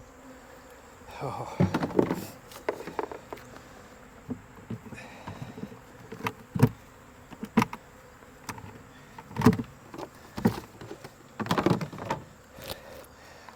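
Honey bees buzzing around hive frames during honey extraction, a faint steady drone under intermittent knocks and rustles of handling, with a brief exclamation from a person.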